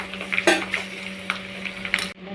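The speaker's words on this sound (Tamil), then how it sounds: "சீரகம் போட்டு பூண்டு முந்திரி காஞ்ச மிளகா கருவேப்பிலை போட்டுக்கலாம்." Cumin, garlic, cashews, dried chillies and curry leaves fry in hot oil in a pan, giving a steady close sizzle with a few louder crackles and stirring clatters before it cuts off abruptly.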